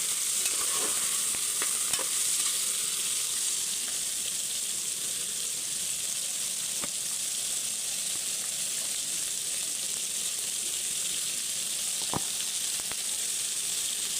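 Soya chunks pulao stirred together with masala in a pan, a steady close sizzle and scraping that runs without pause, with a few sharp spoon knocks against the pan and no talking.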